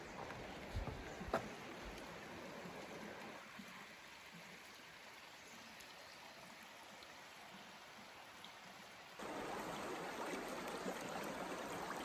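Steady broadband rush of the Feather River flowing past a resting spot along the Pacific Crest Trail, continuous and fairly close, with a brief louder swell near the end and no voices.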